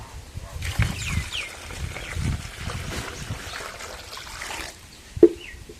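Water pours into gram flour (besan) to mix a batter for sweet boondi, a soft broadband trickle running steadily for several seconds at close range, ending with a brief sharp knock.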